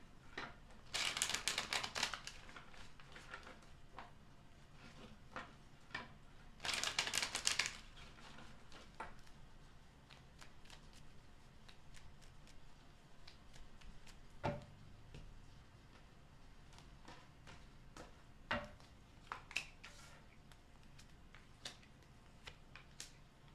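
Tarot cards being shuffled by hand, with two loud riffling bursts early on followed by scattered soft taps and clicks of the deck, close and otherwise quiet.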